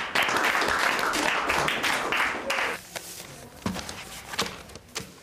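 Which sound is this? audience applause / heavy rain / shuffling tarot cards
audience applause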